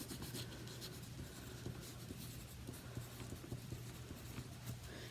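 A pencil scratches steadily across black paper as a name is written, a soft, continuous scraping with small irregular strokes throughout.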